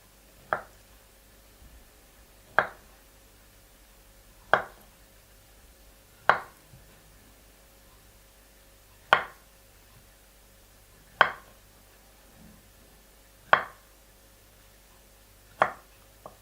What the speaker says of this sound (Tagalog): So that's it, the avocado. I cut it already.